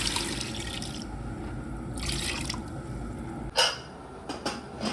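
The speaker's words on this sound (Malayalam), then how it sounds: "ഞാൻ കുക്കറിലേക്ക് ചിക്കൻ വേവാനുള്ള വെള്ളം ഒഴിച്ചു." Water is poured into a pressure cooker holding masala-coated chicken for biryani, a steady splashing trickle with a sharper splash near the end, close and alone.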